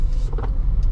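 A car belonging to a neighbor drives past, heard as a close, steady low engine rumble with a short swell of road noise across under a second.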